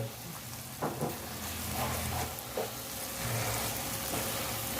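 Spice masala for butter chicken fries in oil in a pan, giving a steady close sizzle with a few brief stirring scrapes and no voices.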